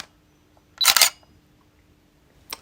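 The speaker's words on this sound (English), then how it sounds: "DSLRs are getting phased out and they're often more bulkier, heavier, and the mirror adds a mechanical noise." A DSLR camera fires a single shot, with a sharp mechanical clack from the mirror and shutter close up in a quiet room. A second brief click follows near the end.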